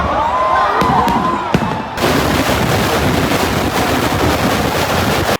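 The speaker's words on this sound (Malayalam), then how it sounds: "ഇന്ന് നമ്മളങ്ങനെ കാത്തിരുന്ന സാമ്പിൾ വെടിക്കെട്ട് ഇങ്ങെത്തി" Sample fireworks at Thrissur Pooram in Kerala: a few sharp, loud blasts open, then a dense, continuous roar of rapid explosions and crackling fills the rest, close and overwhelming.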